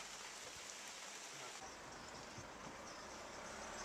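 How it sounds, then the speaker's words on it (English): Rain falling steadily beside a road during a daytime walk, an even, faint hiss of drops with no voices, holding constant until an abrupt cut at the end. "Check out the rain."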